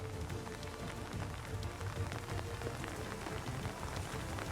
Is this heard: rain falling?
yes